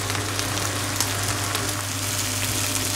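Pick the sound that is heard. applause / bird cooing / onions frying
onions frying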